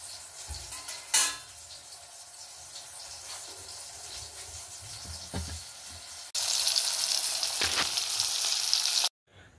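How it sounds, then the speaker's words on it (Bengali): Brinjal slices frying in a pan, a continuous crackling sizzle with a few clattering knocks early on, then a sudden louder, harsher burst of frying before it cuts off abruptly. "বেগুন ভাজা হয়ে গেছে"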